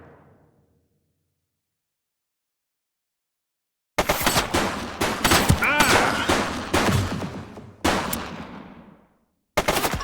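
Gunfire in the police video game The Precinct: after a silent stretch, bursts of rapid automatic shots crackle loudly for about five seconds, pause briefly, then resume with another short burst at the end.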